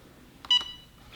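A heat press timer sounds a short burst of electronic beeps while being set for a flex vinyl transfer, clear and close in an otherwise quiet room.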